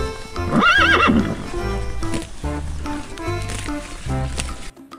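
A loud horse whinny rises and falls, followed by a steady clip-clop of hooves, coming from a toy zebra, close and dominant with no speech over it.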